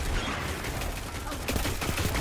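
Loquitor IV rifle shots in Destiny 2 PvP, a dense burst of game gunfire and effects that grows sharper and more clustered toward the end, loud and continuous.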